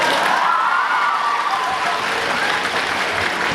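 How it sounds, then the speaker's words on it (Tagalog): A commencement audience claps together in a dense, steady round of applause that stays loud throughout, with a faint murmur of voices under it. "Konti naman ng palakpak."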